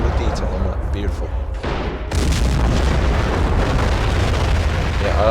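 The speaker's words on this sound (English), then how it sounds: "The artillery is just too strong from that wall." Artillery in the Men of War video game, with booming explosions and a dense rumbling barrage. The blasts swell louder after a short gap and keep going without pause.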